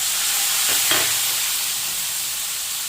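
Half a cup of water poured into frying masala of coriander powder, red chili and turmeric in a pan, giving a steady loud sizzle with a brief stirring scrape, no voices.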